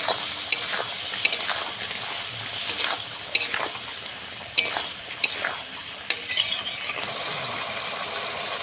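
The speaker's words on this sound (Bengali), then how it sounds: "এবার ভালো করে একটু কষিয়ে নেব।" Spice paste with turmeric and chili powder being sautéed for a hilsa fish curry, with a spatula scraping and clinking against the pan at irregular intervals over a soft sizzle.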